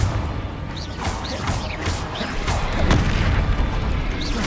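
Confringo fire spells exploding in the video game Hogwarts Legacy, a dense stretch of booming blasts and whooshing magic effects layered into constant rumbling combat noise.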